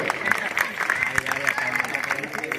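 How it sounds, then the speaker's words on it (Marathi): Steady crowd applause at a welcome event for a naib tehsildar in Surat, dense clapping running throughout beneath music and voices. "टाळी वाजवा जोरात"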